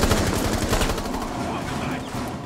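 Rapid automatic gunfire in the video game Rainbow Six Siege, a loud, close, continuous burst of evenly spaced shots that eases slightly toward the end.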